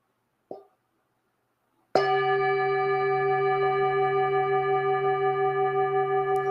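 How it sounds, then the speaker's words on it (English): A meditation bell struck once, ringing out in a long, clear, sustained tone with steady overtones that hang in a quiet room, preceded by a brief soft tap. "So I'll invite the bell."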